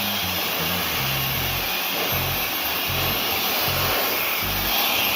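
A hair dryer roars steadily and loudly while styling mid-length hair with a vent brush, the airflow wavering slightly as the brush moves, with no talking.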